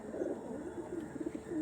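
Andhra tournament pigeons kept for sale coo softly, a few low rolling coos repeating across a quiet background, fairly close but not loud.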